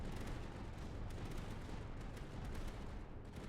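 An orbital cannon fires on enemy waves in Tower Dominion: a dense, continuous roar of rapid blasts and rumbling impacts at low, steady loudness, with no voice on top.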